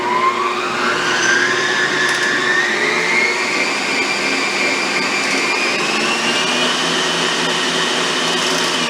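An electric stand mixer with a KitchenAid-style flat beater whirs steadily through batter for spritz cookies, a continuous droning motor hum with a slowly rising pitch, loud and close, with no talking.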